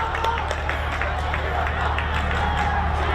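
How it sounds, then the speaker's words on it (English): Crowd at a Sri Lanka versus South Korea rugby World Cup qualifying match swells into a steady, broad roar of cheering and chatter, with a voice speaking over the continuous din. "The crowd now wakes up."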